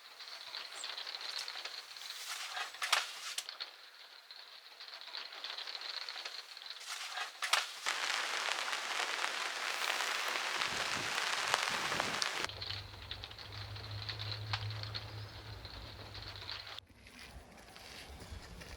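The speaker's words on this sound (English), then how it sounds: "we've got heavy rain till about lunchtime" Heavy rain drums steadily on a roof or tent for the whole stretch, a loud, broad wash with gusts and a low rumble joining near the end; nobody speaks.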